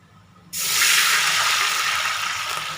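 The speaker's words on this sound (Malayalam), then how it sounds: "4 ഗ്ലാസ് വെള്ളം ഒഴിച്ചു കൊടുത്തിട്ടുണ്ട്." Water pours from a glass into a pot of raw rice for an egg dum biryani, a sudden rushing splash that starts after a brief pause and keeps up as a steady close hiss.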